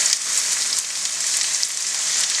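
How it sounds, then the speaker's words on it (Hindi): Chopped onions fry in hot oil for a chicken curry, making a steady, loud, hissing sizzle with small crackles that carries evenly from start to finish with no talking. "अब इसके अंदर हम जो हमारे चॉप किए हुए प्याज हैं उन्हें डाल देते हैं धीरे से"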